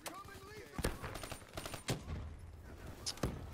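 Call of Duty Black Ops 3 gunfire on the Nuketown map in Hardpoint mode: a few sharp separate shots crack over a busy game backdrop, fairly close, with a player talking in between.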